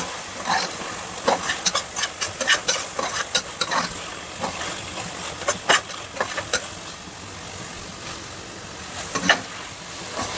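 Prawns with chili powder fry in a pan, a continuous close sizzle with bursts of scraping stirs clustered early and again near the end, no voices.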